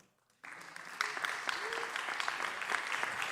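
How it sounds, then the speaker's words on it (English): A jazz masterclass audience at the XVII Festival de Jazz breaks into steady applause for guitarist Rodney Jones, starting abruptly after a brief silence and staying dense and even through the end, with a faint voice briefly rising above it. "Okay, you can applaud now."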